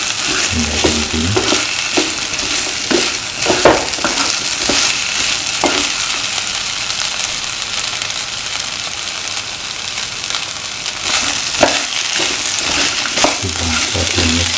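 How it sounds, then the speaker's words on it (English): Plantains, red shallots and Kashmiri chili sauté in a pan, a loud, continuous sizzle with repeated spoon scrapes and stirring clatter throughout. "Keep on sauteing and mix."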